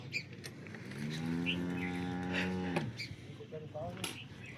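On a dairy farm in Banaskantha, Gujarat, one cow lets out a single long, low moo lasting about two seconds at moderate distance. Quiet farm background surrounds it, with a few faint clicks afterward.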